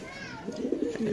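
A club-registered racing pigeon with a BFPFC tag coos softly in a low, rolling burst amid a busy pigeon market, mixed with background voices and other faint bird calls.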